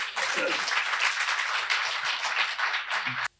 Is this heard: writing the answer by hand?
no